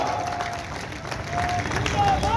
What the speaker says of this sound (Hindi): एक बार जोरदार तालियां इनके लिए बजाइएगा